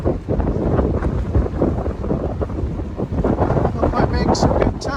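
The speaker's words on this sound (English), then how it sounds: "You can hear the wind." Strong coastal wind on the Outer Banks beach near Rodanthe buffets the microphone in steady gusts, rumbling low and loud, with surf-like noise beneath.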